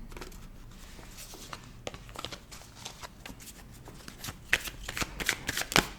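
Tarot cards are shuffled and cut by hand close up, a run of soft riffling patters that build into sharper, louder flicks and slaps toward the end, quiet overall with no talk.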